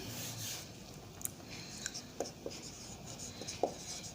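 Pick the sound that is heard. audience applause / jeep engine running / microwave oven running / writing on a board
writing on a board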